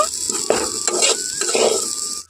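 Eggplant slices and neem leaves fry in oil in a pan, giving a steady close sizzle broken by stirring scrapes and light utensil clicks.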